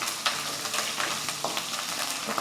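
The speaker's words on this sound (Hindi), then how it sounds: "सिजल हो रहा है हमारा ड्राई दाना और जीरा" Dried seeds and cumin sizzle steadily in hot oil along with curry leaves and long-sliced green chillies, a close, continuous frying crackle with small pops and occasional stirring.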